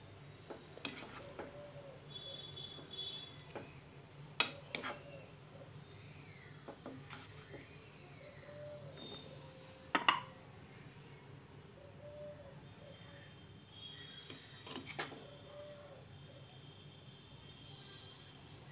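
Cooked rice folded into jackfruit biryani in a pot, heard as scattered clinks and scrapes of a spoon against metal over a quiet room with faint bird calls in the background.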